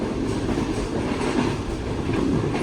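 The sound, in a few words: Shah Hussain Express train running at speed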